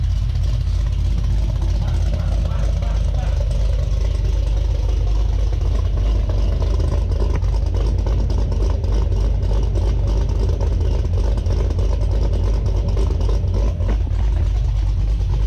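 A 2017 Camaro ZL1 with a catted exhaust and mufflers idles and revs on a dyno with a deep, steady rumble, loud and close, while wind buffets throughout.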